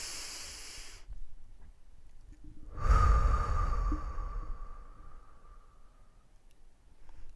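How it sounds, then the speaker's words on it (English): One slow, deep breath drawn in and let out, a long airy rush rising in the middle and fading gradually into quiet. "Let's take a deep breath in."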